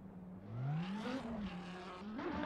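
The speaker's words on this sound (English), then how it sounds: "The car sounds and looks so cool." A Lamborghini built for drifting roars steadily through a drift test with its engine pitch sweeping up and down. The loud, continuous sound rises mid-run and has no talk over it.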